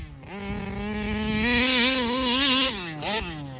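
A Taylor RC 71 Supreme RC car under throttle, its engine giving a loud, buzzing whine that climbs in pitch, holds, then drops and rises again briefly, heard alone and close.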